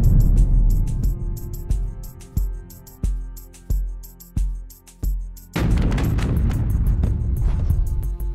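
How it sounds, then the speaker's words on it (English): A missile strikes a residential high-rise in Kyiv: a series of sharp, heavy booms with rumbling decay repeat at roughly even intervals, then a dense, loud blast and roaring debris noise take over. "a missile came tearing through this residential area. The impact was captured from two angles."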